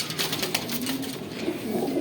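A Ferozpuri pigeon, a fancy breed, gives soft low cooing close by, with a faint flutter of wings, in a short quiet stretch.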